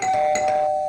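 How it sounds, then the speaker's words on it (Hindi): A single electronic house doorbell tone rings loud and close, sustained for about a second with no talking. "बेल बजी, देखो दरवाजे पे कौन है"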